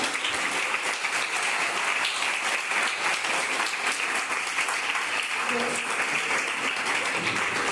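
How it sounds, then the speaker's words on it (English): A school classroom of students applauds a classmate after a correct geography quiz answer, a steady dense clapping that fills the room throughout. "Clap for her."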